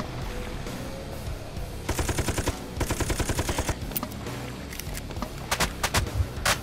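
Gunfire in the video game Dead Sky, with rapid bursts of automatic shots over a busy, noisy game soundscape, several volleys of evenly spaced shots separated by short pauses.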